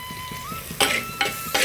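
Tomato, onion, curry leaves and coriander sautéing in a pan for Chettinad mutton curry: soft sizzling with repeated metal spoon scrapes and clinks against the pan, three sharper stirring strokes close up.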